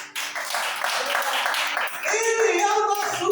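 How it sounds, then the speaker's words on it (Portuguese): A church congregation claps in praise of Jesus during a service. Scattered, moderate clapping runs under the preacher's continuing speech and music, with no quiet gap between them. "Aplauda Jesus por isso"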